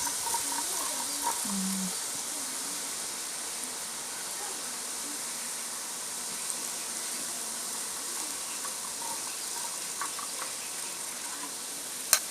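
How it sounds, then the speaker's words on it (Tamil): Gram flour batter drops frying in hot oil for kara boondi, a soft continuous sizzle with faint bubbling and a few small clicks, steady and alone at low level. "இப்போ எண்ணெயோட சலசலப்பெல்லாம் நிற்கட்டும்"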